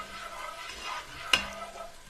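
A stock pot of sliced garlic stirred over medium heat gives a soft, steady sizzle, and one brief utensil scrape or knock comes midway.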